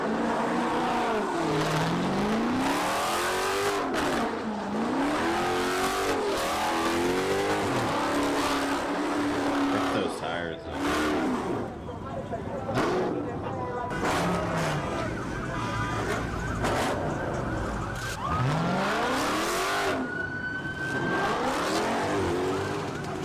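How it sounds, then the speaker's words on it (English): A car with a 6.4-liter Hemi engine revs hard while drifting around corners during an illegal street takeover in Texas, loud engine pitch rising and falling in repeated sweeping surges, with tire noise and some voices mixed in. "He didn't just flee, he drifted around corners, hit full throttle, and escalated the situation on purpose."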